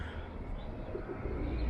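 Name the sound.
pigeons cooing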